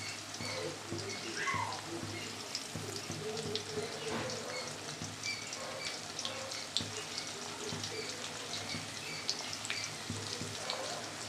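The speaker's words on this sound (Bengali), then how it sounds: "তেলটা গরম হয়ে গেছে, এবার আমি পেঁয়াজ দিয়ে দিলাম," Chopped onion, one large onion, sizzling in hot oil for a Bengali fish and jute-leaf curry, a steady crackling hiss running throughout at moderate level, with scattered louder pops and a low background hum.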